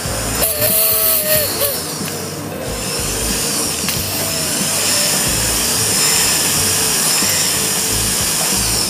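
A handheld grinder or drill whirs steadily against a part during a Vespa LX 150 scooter overhaul, a continuous grinding hiss that holds for several seconds with a brief change near the start.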